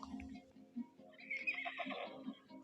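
A horse neighs in a historical drama battle setting, a long quavering whinny rising and falling over faint hoof clops. It sounds moderately distant and quiet.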